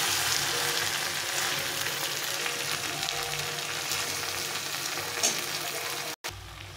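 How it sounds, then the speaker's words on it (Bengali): Mutton sautés in oil as it is stirred, a steady close sizzle with soft scraping of the stirring, cut by a brief dropout near the end. "এটা ভালো করে কষিয়ে নিতে হবে, অনেক সুন্দরভাবে কষিয়ে নিতে হবে"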